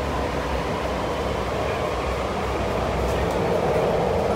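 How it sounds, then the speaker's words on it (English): Sydney Metro train accelerating, a loud continuous roar and rumble heard from inside the carriage, steady and broadband, rising slightly toward the end with no talking. "Wow, the acceleration on this train is huge compared to Sydney trains"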